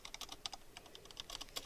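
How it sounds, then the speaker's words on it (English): Typing on a computer keyboard: quick, uneven clusters of light plastic key clicks with short pauses between bursts, close and fairly quiet, with no voices. "I'm typing bad because I'm not a good typer anyway"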